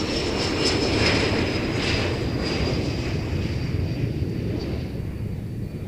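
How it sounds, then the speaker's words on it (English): A Korean Air Airbus A330-300 jet arrives at Seoul Incheon Airport, its engines a loud continuous rumbling roar with a thin whine above, slowly easing over six seconds. "That's an Airbus A330-300."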